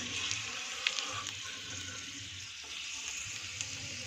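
Garlic fries in a pan, browning in hot oil with a steady, soft crackling sizzle and a few brief pops.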